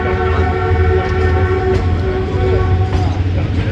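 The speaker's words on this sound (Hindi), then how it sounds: "बारह बज के 25 मिनट पे शादरा बाग जंक्शन से स्लो स्पीड पे पास हो रही है 41 अब कराक्रम एक्सप्रेस" Karakoram Express train moving slowly through Shahdara Bagh Junction, a steady loud rumble of wheels and carriages with sustained horn-like tonal hums throughout.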